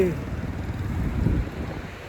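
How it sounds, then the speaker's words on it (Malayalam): The flooded Mangalam river overflows its banks with a loud, continuous rushing roar, heard up close and partly mixed with wind on the microphone. "മംഗലം പുഴ നിറഞ്ഞ് കവിഞ്ഞൊഴുകിക്കൊണ്ടിരിക്കുകയാണ്"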